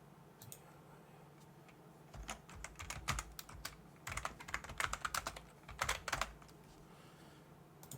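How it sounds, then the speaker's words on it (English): Keyboard keys clatter nearby in uneven flurries. A few taps come first, then several seconds of faster typing that trails off into quiet. "Typing is horrible."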